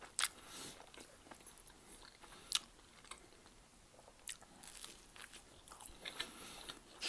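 Close, crisp crunching bites and chewing of Pizza Hut nacho chicken nuggets dipped in sour cream and chive dip, with irregular loud crunches over soft mouth sounds and no talking.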